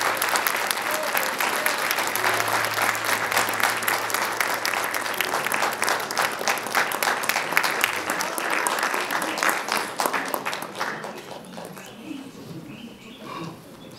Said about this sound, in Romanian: Aplauze pentru sportiva anului 2022, Onești, Mihaela Valentina Campbell.